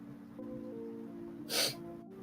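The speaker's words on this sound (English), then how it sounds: "That was a sneeze, child." A single sudden sneeze bursts out in a quiet room, brief and sharp, with faint background tones before and after.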